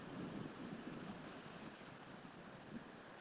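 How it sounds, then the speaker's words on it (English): Wind blows steadily outdoors, a dull, even rush with no talking. "Yeah, the wind is freezing."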